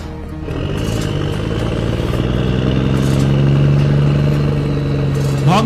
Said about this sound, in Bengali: কোত্থেকে জানি এক বাইক সংগ্রহ করে পালিয়ে যাচ্ছে